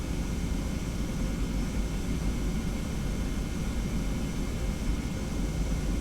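Boeing 717 jet engines idle in a flight simulator while the airliner taxis at Amsterdam Schiphol, a steady, loud broadband roar with a low rumble that holds constant and unbroken throughout.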